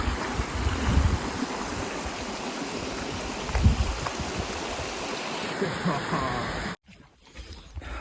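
A creek crossing a hiking trail on the Pacific Crest Trail in late August, its water rushing in a steady broadband wash close by, with brief speech and a cut to quieter sound near the end.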